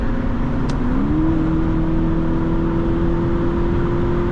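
A 2008 BMW 650i E64 cruises steadily, its engine hum and road roar loud and constant, with a slight pitch rise early on and no voices.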